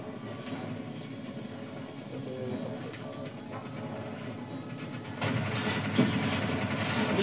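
A generator engine idling in Call of Duty: Black Ops 3, a steady low mechanical drone that grows slightly louder and brighter toward the end, heard alone at moderate volume.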